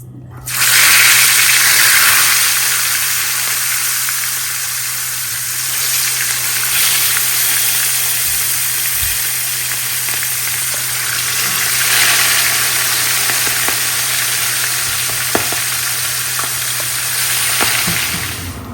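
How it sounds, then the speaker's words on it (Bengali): Fish frying in a pan in a home kitchen, giving a steady broadband sizzle and hiss that runs unbroken for the whole stretch, close and fairly loud, over a constant low electrical hum, with no talking. "এখন হবে মাছ ভাজি।"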